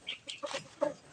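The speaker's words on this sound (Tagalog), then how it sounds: "Ayan po ang manok guys." A few short clucks from chickens close by, three quick bursts with brief gaps, faint and alone.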